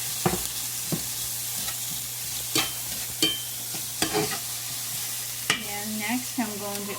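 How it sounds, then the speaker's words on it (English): Onion sautéing in a hot cast iron pan, a soft continuous sizzle broken by periodic scrapes and clacks of stirring, with a low hum underneath and a brief clink near the end. "I have my cast iron here, and as you can tell it's hot enough, so I'm going to put my onion and kind of just saute it"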